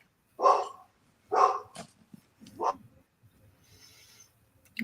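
Dogs bark in a few sharp separate bursts, close and loud, with short gaps between them and quieter faint noises trailing after.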